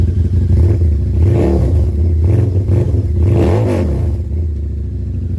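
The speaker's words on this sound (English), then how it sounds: "That is a very loud exhaust." A Harley-Davidson V-Rod Muscle motorcycle with a loud aftermarket exhaust idles with a deep, loud rumble and is blipped twice into short revs that rise and fall, recorded close with no talking.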